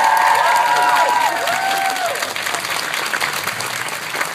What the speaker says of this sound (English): Please give it up for Demetri Martin.